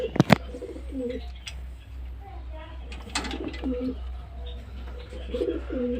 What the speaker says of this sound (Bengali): দেখুন আমার পায়রাগুলো